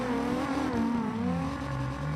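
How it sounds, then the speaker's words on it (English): A Dodge Viper race car engine rumbles loudly and steadily throughout, its deep drone shifting in pitch as it pulls under load, with no talk over it. "you can hear the horsepower in the background, that rumble from that Viper engine"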